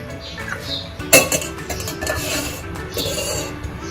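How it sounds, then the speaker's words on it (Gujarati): A bowl set down on a gas stove while cooking vaseti bhaji gives one sharp clink of cookware, followed by soft kitchen clatter and handling noises close by. "બાઉલ મૂકીશું."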